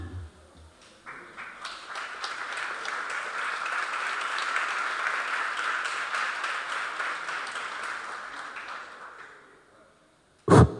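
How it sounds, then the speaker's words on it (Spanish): Audience applause at a political science talk, clapping that builds after a quiet start, holds as a dense crowd sound for several seconds, then fades away, followed by a brief sharp noise at the end. "un aplauso para los tres"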